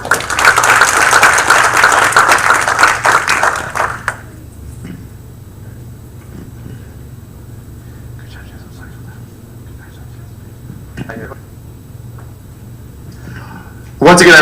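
Audience at a township council meeting applauding CPA graduates, a dense burst of clapping for about four seconds that fades to quiet room noise and murmuring, then another brief burst at the end.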